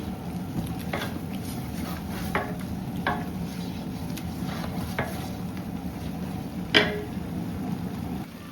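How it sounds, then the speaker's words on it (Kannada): Spices frying for a large batch of mutton sambar, a soft continuous sizzle with occasional spoon scrapes and one louder clank against the pot, heard alone without talk. "ಇದು ಕಮ್ಮಿ ಅಂದ್ರೂ ಒಂದು 10ರಿಂದ 15 ನಿಮಿಷ ಚೆನ್ನಾಗಿ ಫ್ರೈ ಆಗಬೇಕು"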